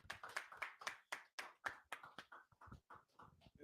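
Rhythmic group clapping at a Sabbath church service, sharp claps repeating in a steady beat, fairly close and lively, with some faint voices mixed in.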